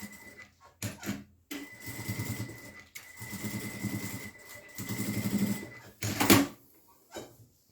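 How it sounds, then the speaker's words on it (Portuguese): Sewing machine stitching along the border of eyelet lace on a cotton tea towel, running in several bursts with short pauses between. "faço uma costurinha aqui nessa borda"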